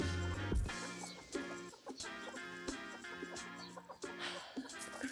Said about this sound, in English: Crazy broody chickens.